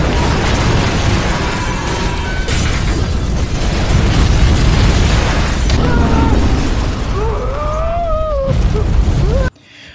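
A loud, sustained roaring explosion from a ship in a film fills the clip with heavy low rumble, with a few faint voices calling out before it cuts off abruptly.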